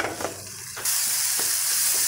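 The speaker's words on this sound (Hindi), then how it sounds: "अदरक डालने के बाद 1 मिनट यहाँ पे हमें मसालों को फ्राई करना है।" Grated ginger and spices frying in a pan, a soft stir at first, then a sudden loud, bright hiss of sizzling that holds steady to the end.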